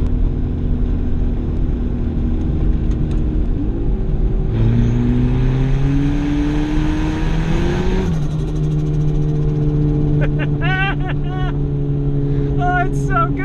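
A cheap turbocharged car engine revs and accelerates, its pitch climbing steadily as it pulls, then dropping back to a steady drone, loud and close, with a brief whistling at the end.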